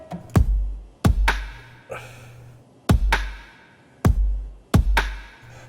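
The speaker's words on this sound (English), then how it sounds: "this is the drum pattern I added in." Programmed drum pattern with heavy kick hits and a sharp snare or clap, repeating in a steady, punchy groove with booming low decay, heard alone.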